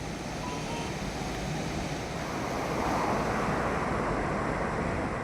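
The Sindh River in Kashmir rushing along, a constant broad roar of fast water mixed with wind buffeting the microphone, swelling slightly louder midway, with no talk.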